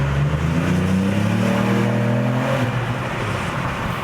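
A Ford Puma ST accelerating hard in second gear through a tunnel, its engine note rising steadily and loudly with echoing reverberation, then easing off near the end.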